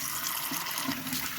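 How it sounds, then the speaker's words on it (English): Washed poha rice flakes being shaken to drain off the water, a steady close rush of draining, splattering water for a Kanda Poha breakfast from Mumbai, with no talk. "So I just shake it up so all the extra water comes down."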